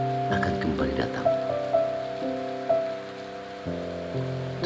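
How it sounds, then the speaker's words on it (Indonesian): Heavy rain falls in a steady, dense wash of sound, with a sustained melodic tone running over it and no talking. "Derasnya turun hujan"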